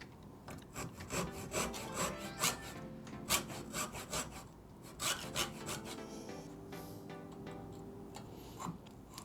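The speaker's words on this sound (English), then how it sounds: "I'm going to try to allow the saw to get as close to both lines" A hand saw cuts a half blind dovetail in wood, a close series of crisp rasping strokes in an uneven back-and-forth rhythm that slow and soften toward the end, with no speech.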